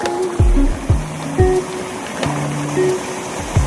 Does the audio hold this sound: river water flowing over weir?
yes